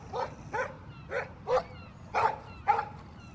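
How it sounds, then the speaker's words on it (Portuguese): A dog in the Life is Strange video game barks six times in a steady rhythm, each bark sharp and fairly close, with quiet background between barks. "Stop that! Stop! No barking."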